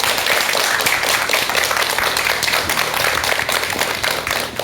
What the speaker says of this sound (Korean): 여러분 박사님께 큰 박수 한번 부탁드리겠습니다.